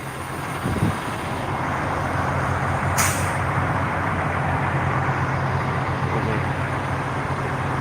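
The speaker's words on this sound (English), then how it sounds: "beautiful truck." A truck idles at the Freedom Convoy 2022 protest with a deep, steady engine rumble. A sharp air-brake hiss bursts out once about midway, then the idle carries on.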